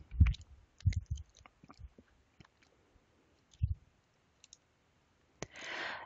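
A computer mouse clicks a few times, with sharp, isolated clicks spaced irregularly in a quiet room.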